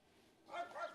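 A single short dog bark or yip sounds near the end of the clip during a walk, fairly faint against a quiet background.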